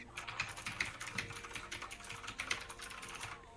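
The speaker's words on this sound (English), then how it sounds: "Couldn't hear me over the typing." Rapid, steady typing on a computer keyboard in a morning show studio: dense, crisp key clicks at a quiet level, close by, with no voices over them.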